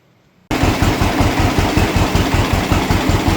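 A 1948 John Deere B tractor engine starts up abruptly and runs steadily at idle, a loud, close, rhythmic low thumping putter that continues without speech.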